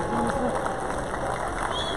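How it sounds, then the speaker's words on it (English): Crowd applause at a dog show awards ceremony, a short burst of many hands clapping mixed with crowd murmur and some cheering, moderately loud and continuous. "A round of applause, please"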